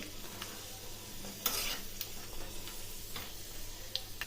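Garlic cloves fry in tempering oil for raw mango dal, a soft steady sizzle with light stirring taps and a brief louder crackle partway through.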